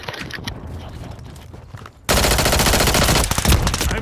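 Rapid automatic gunfire from an SMG in the video game Modern Warfare 3 erupts suddenly after quieter game sounds, loud, dense and close, continuing as a sustained burst.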